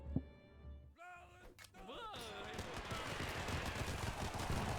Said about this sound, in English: They're still shooting them from back there.